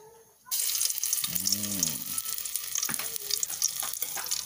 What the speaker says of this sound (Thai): ใส่กระเทียมเจียวนะครับเพื่อฆ่าน้ำมันนะครับ